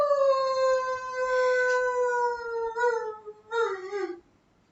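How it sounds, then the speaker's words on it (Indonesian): A wolf gives one long, steady howl that slides slowly downward, then a couple of shorter wavering calls before fading out, clear and prominent over faint background. "Serigala."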